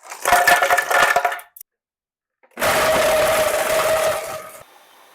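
A blender grinds a plum smoothie of water, plum base and ice in a café, two bursts of dense whirring and crunching separated by a short silence, loud and close with no talk.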